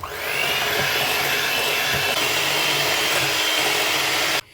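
An electric hand mixer beats eggs for cake batter in a bowl, a loud, steady high whine that runs unbroken for several seconds and cuts off abruptly at the end.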